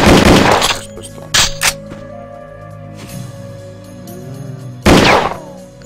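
A pistol fires in the video game Will Rock, with sharp, loud gunshots: a burst of a few rapid shots at the start, another pair near the middle, and a single blast near the end, separated by quieter ambient game sound.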